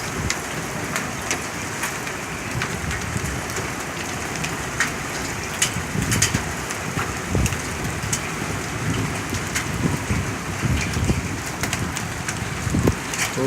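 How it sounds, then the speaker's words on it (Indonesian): Hail falls in Saudi Arabia, pattering densely on surfaces with sharp scattered impacts and occasional louder cracks over a steady roaring wash, continuous throughout with no voices. "Hujan es di Saudi, hujan es."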